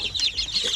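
Forty-five-day-old Basilan and Zampen native chicks peep and cluck in a box, a quick run of high, chirpy calls heard close up without talk.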